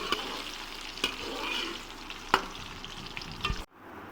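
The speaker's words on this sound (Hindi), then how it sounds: "प्याज मैं अच्छी तरह से फ्राई करूँगा जब तक ये गोल्डन ना हो जाएं" Onions sizzling and frying in a pan for chicken achari handi, a steady close crackle with occasional stirring clatters, ending abruptly.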